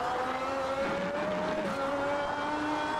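A race car engine roars steadily at high revs in the racing game Automobilista 2, a sustained droning whine with slight pitch shifts, loud and close throughout.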